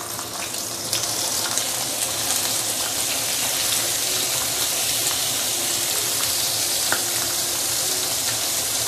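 Whole fish stuffed with sambal sizzles steadily in hot oil, half pan-fried and half deep-fried, a loud continuous crackling hiss with scattered pops and no talk.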